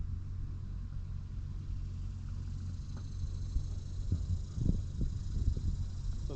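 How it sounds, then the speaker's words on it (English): Wind blowing across a kayak on open water near lily pads, a low steady rumbling buffet with faint splashes and knocks, fairly quiet, no talking. "So the wind's blowing right into me"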